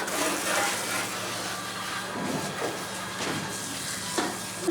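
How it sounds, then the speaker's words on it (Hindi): A car gets washed with a steady spray of water, a continuous broadband hiss and splash holding at an even level for several seconds with small surges, no voices. "गैस गाड़ी धुल रही है।"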